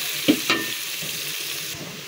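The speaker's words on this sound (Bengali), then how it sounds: "পেঁয়াজ ভেজে তারপর রান্না করব।" Onions frying in a pan with a steady sizzle, a couple of stirring scrapes early on, close and alone.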